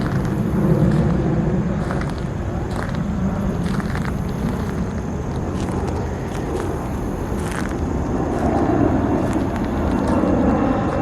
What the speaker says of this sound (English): Oh, there's an airplane again.